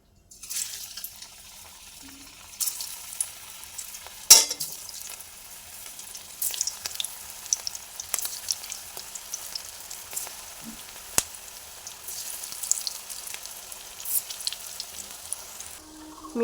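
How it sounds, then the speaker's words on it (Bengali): Jackfruit kofta balls fry in hot white oil in a kadai, giving a steady bubbling sizzle with scattered crackles and a few sharper clicks from pieces being dropped or moved; no talking. "কোপ্তাগুলো ভাজবো"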